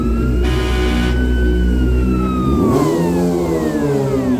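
A toy police motorcycle sounds a wailing siren whose tone sweeps down and then climbs again, near and fairly loud over a steady low whirring drone.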